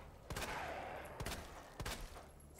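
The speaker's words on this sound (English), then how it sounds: "That was some clean shooting" Three sharp, separate gunshots ring out in the Resident Evil 2 Remake video game, spaced unevenly about a second apart, each a punchy crack over a quiet game backdrop.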